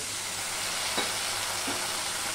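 Spice paste with tomato, two green chilies and a splash of water fries in a pan, a steady broad hiss of sizzling with one faint scrape of stirring near the middle, no voices.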